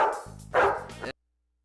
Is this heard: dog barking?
yes